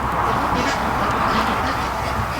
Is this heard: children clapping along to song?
no